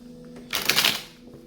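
A deck of tarot cards is riffled once in a quick burst of crisp flapping, loud and close, with quiet room tone before and after.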